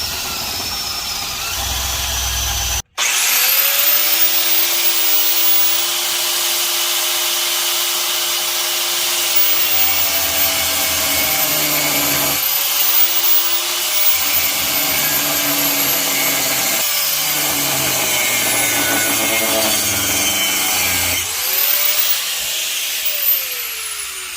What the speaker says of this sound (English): So I'll drill and